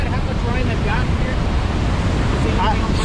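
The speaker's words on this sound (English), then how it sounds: "This is all the water heading out, going and ruining our fishing." Muddy floodwater rushes down a swollen river after heavy rain, a steady, loud broadband roar with no breaks, close and continuous, with some wind noise buffeting the microphone.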